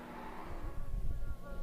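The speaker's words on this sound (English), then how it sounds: "The aerial atom of Nev Wood goes up the back straight, a fast car" Ariel Atom race car driven up the back straight of a Scottish circuit during a Super Lap Scotland event, a steady engine roar from a distance with a slight swell as it passes.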